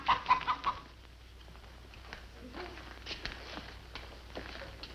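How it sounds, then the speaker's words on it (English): A hen clucks in a short run of four or five quick close clucks at the start, after which a quieter room follows with faint scattered sounds. "The hen that lays golden eggs."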